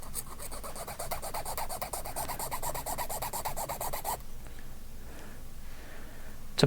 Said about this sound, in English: So I'll just hold this flat and basically just put a little bevel on the end.